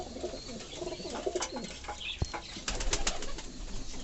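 Pigeons of a king and normal cross with tiger grizzle coloring coo nearby in soft, low, repeated calls, with faint rustling and wing movement around them.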